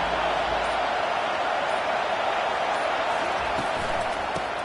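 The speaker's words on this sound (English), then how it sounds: "Listen to the crowd energy here in the early going." A dense stadium crowd roars and cheers continuously at a Michigan versus Ohio State college football game, a broad steady wash of noise with a commentator speaking over it.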